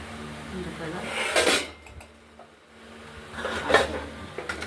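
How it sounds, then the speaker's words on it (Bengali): A pressure cooker lid is set on and clanked shut in a home kitchen while dal cooks, giving two metallic bursts of clatter about two seconds apart, close and moderately loud over a low kitchen hum. "এবার প্রেশার কুকারটা ঢেকে দেবো।"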